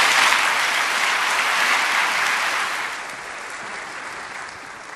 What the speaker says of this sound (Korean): 우리 큰 박수로 함께 모시겠습니다.